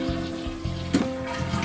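Toilet flushing after its fill valve was replaced, a continuous rushing, hissing stream of water with a brief louder gush near the middle and no talk.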